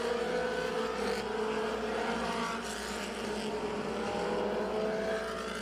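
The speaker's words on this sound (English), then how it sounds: "Hopkins and Chrisman racing hard now for the 4th position, side by side as they work off of turn 2 down the backstretch" Pure stock race cars running on the dirt oval at County Line Raceway, a dense, continuous engine roar from several cars racing side by side down the backstretch, steady and moderately loud with no talk.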